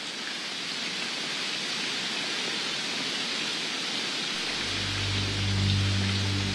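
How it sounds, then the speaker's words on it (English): Steady rain falls on Huangshan mountain as a dense, even hiss of drops close around the listener, loud throughout, and a low rumbling hum joins under it toward the end. "big drops of rain start to fall"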